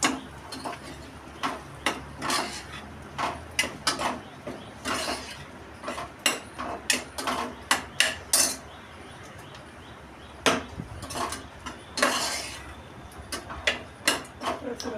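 A spoon stirs sargavo (drumstick) and potato sabji with turmeric and whole coriander-cumin in a pan, giving repeated sharp scraping clinks in irregular bursts over a low background hum.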